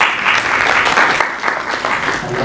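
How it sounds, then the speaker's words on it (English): Audience applause at a climate change reporting pre-training workshop, a steady, dense wash of clapping from a roomful of people that holds at an even level for the whole stretch with no voices over it. "Let's give a round of applause."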